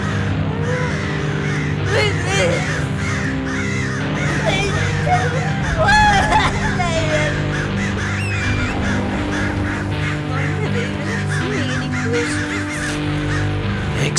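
Crows caw repeatedly in a video game scene with a cage hanging from gallows. Harsh calls rise over a dense, loud bed of low sound, and speech is faintly mixed in.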